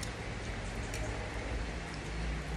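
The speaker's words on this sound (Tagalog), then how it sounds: "Yan, lumakas yung ulan" Heavy rain falls steadily, a constant dense hiss of drops on surfaces, fairly quiet and even throughout with no talk over it.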